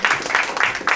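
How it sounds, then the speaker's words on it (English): Audience at a spring magic show claps in a short burst, the applause rising and falling in quick pulses as a volunteer is welcomed on stage. "give him a round of applause"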